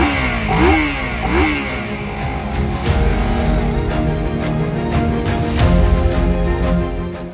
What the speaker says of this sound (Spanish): Se pone en marcha el equipo de electrólisis y en unos segundos más tarde ya podemos arrancar el motor.